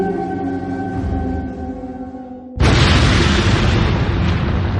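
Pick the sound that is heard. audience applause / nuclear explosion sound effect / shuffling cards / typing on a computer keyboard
nuclear explosion sound effect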